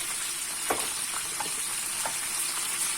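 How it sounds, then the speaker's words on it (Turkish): Small diced peppers frying in a little oil over high heat, a steady close sizzle with a few louder spits and crackles as they are stirred, and no talking. "Yüksek ateşte ve az yağda kızartacağım arkadaşlar."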